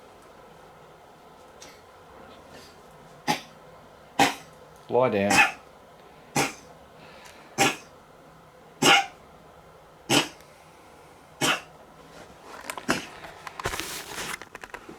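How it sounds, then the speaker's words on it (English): A dog coughs in a series of sharp, hacking bursts spaced a second or so apart, fairly close and loud in a quiet room, with a brief spoken command and some scuffling toward the end. "now since we've got the bloody coughing dog"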